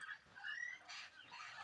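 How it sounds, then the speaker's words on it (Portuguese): Parrots calling in the early morning at a rural homestead, a few faint, rough squawks and chatters heard from a distance against a quiet background. "E um som lindo da natureza aí, com o canto dos papagaios aí"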